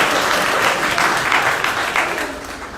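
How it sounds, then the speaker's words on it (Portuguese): Steady audience applause at a seminar for a medical course, a loud sustained wash of many hands clapping that gradually thins and fades toward the end. "Uma salva de palmas para a Janaína."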